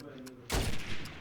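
A shotgun blast in a competitive video game match lands as one sharp, punchy shot with a short rumbling tail, heard at moderate distance over quiet background game sound.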